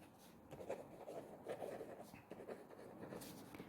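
Chalk or marker scratches out writing on a board during a Class 7 maths lesson, in short, quiet strokes and taps at an irregular rhythm, faint and fairly close.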